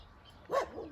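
A dog gives a single short bark at middle distance, a brief muffled woof over a low background hum.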